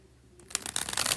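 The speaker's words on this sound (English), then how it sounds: "This is the last bridge shuffle." Tarot cards riffled in a bridge shuffle, a quiet start giving way to a dense, crisp flutter of cascading cards close by, building and sustained to the end with no talk.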